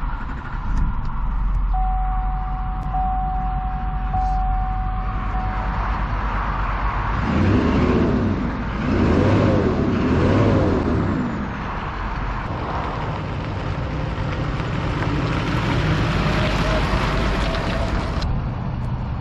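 Dually pickup truck driving off, its engine idling low, then revving in a few rising surges before settling into a steady drone as it pulls away; a faint steady beep sounds early on.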